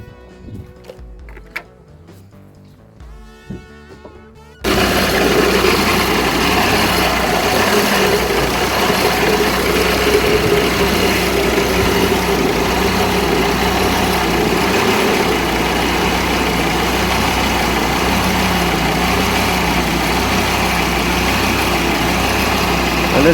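A Jeep Grand Cherokee WJ engine cranks and catches after a few quiet seconds, then settles into a loud, steady, close idle with a continuous low rumble throughout.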